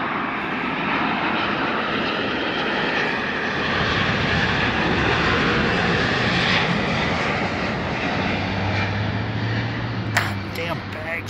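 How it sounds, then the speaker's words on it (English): A Turkish Airlines Boeing 787-9 Dreamliner jet passes with a loud, steady roar of engine noise lasting throughout, broad and rumbling, with a low hum and a few handling knocks near the end. "Turkish Dreamliner 9. TCLLD."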